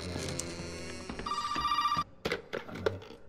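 A telephone rings inside the horror video game Resident Evil 7, a tonal electronic ring sounding over layered game ambience and music, followed by a few sharp knocks and clicks after the ring stops.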